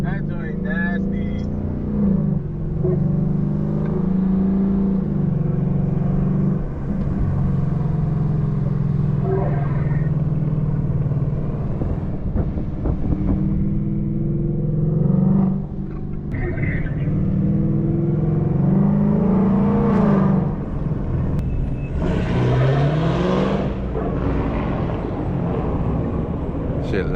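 A Lamborghini's engine revs loudly on a city street at midnight in repeated rising and falling surges, heard close and under excited talk from nearby people.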